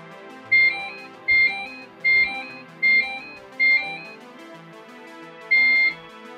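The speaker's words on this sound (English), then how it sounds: "it's just got a buzzer on the motherboard" A series of short electronic beeping tones from a PC speaker buzzer on the motherboard of a Commodore XT-class PC clone, six evenly spaced bursts, with a pause before the final one, clear and close.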